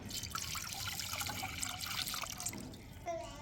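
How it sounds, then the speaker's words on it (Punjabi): Two to three glasses of water pour steadily into a pan, a bright, splashing trickle, fairly close and continuous, before stopping near the end. "ਇਹਦੇ ਵਿੱਚ ਪਾਵਾਂਗੇ ਆਪਾਂ 2-3 ਗਲਾਸ ਪਾਣੀ"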